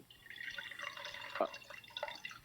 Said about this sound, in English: I'm pouring something in a glass